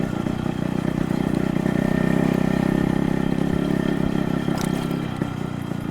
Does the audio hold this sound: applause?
no